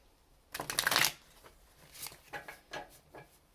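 A Welcome to Night Vale Tarot deck being shuffled, a close papery riffle burst followed by several softer, shorter card flutters and taps, with no talking.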